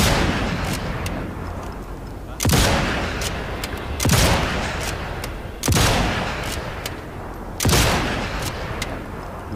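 Heavy gunfire in Sniper Elite 5 during an assault on a gun battery: four big booming bursts roughly every two seconds, each decaying into rumbling echo, loud and close.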